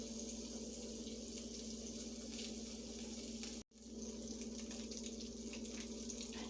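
Squash slices frying in a crowded pan, a steady close hiss and crackle that drops out briefly for a split second before resuming, with no talking.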